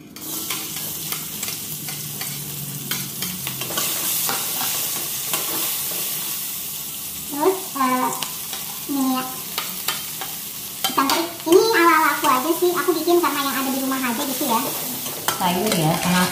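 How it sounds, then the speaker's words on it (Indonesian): Shallots and garlic with salt sauté in a pan, a steady close sizzle broken by bursts of scraping and stirring, growing busier and louder toward the end. "Bawang merah, bawang putih ya, tumis."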